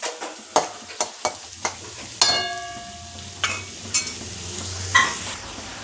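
Potatoes and onions fry in a pan for a potato-brinjal chorchori, with a spatula clinking against the metal in a steady rhythm of sharp taps over a soft sizzle.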